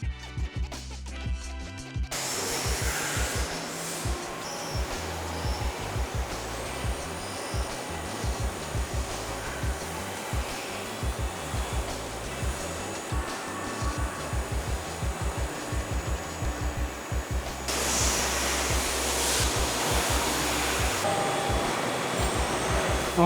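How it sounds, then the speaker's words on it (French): An automated machining machine at the Tektro brake factory in Taiwan hums steadily with a broad mechanical whir and rapid ticking, loading and cutting parts in a continuous drone that grows brighter toward the end. "la machine, elle va venir prendre les pièces sur le plateau, les mettre dans la machine"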